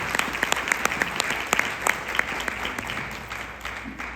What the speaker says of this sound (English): please give yourself a round of applause for this amazing organization.